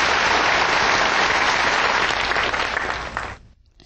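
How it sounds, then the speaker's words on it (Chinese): A large audience at a gathering in Pingtung claps warmly, dense sustained applause filling the room for over three seconds before cutting off abruptly. "热烈鼓掌一下"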